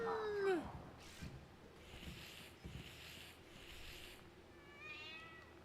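A kitten in a video game gives one clear, close meow near the start, and faint chirpy mews and soft ambient tones follow over a steady low background.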